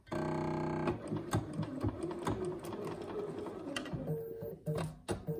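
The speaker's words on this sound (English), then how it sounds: "I'm going to sew these very slowly" A Bernina sewing machine stitches a curved quilt seam at slow speed, its steady motor whir running close and continuous with small mechanical clicks and a few fabric rustles, and no voices.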